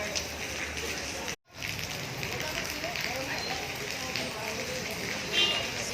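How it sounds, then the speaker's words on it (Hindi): Rain pouring onto water in a garden beside a temple, a steady dense hiss of drops across the whole stretch, broken only by a split-second gap. "पानी में पूरा बारिश गिर रहा है।"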